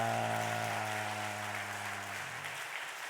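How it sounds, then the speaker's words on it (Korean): A church congregation claps after a saxophone hymn at a Sunday service, steady applause over a fading sustained tone. "감사하다고 박수 한번 크게 하겠습니다"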